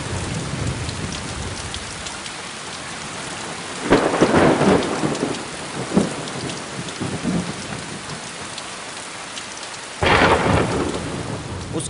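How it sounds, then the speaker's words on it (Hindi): Heavy rain pours steadily outdoors while close thunder cracks and rumbles burst in twice, loud and sudden, with no voices. "बाहर बरसात हो रही थी"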